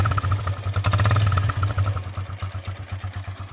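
A Hero Ignitor 125 motorcycle engine runs close by at idle, with a low, steady, rapid pulsing throb and an even, loud chugging rhythm throughout, no voices.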